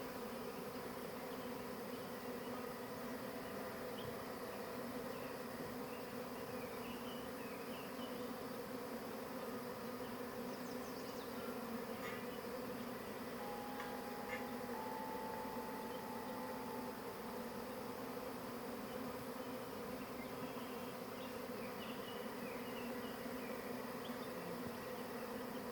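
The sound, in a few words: honey bee swarm buzzing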